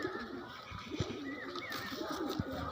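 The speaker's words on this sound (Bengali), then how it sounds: "এটা হাড়িখুঁজা পায়রা, অনেক পুরানো পায়রা" An old Harikhunja pigeon coos softly nearby in a run of low, wavering murmurs, broken by a couple of sharp taps or wing flicks over a quiet backdrop.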